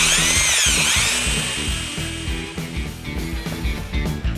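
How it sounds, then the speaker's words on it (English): A power drill whines steadily while its bit grinds and chatters through hard plastic, close up and loud, with no talking. "You operate the drill and apply a little pressure towards the plastic."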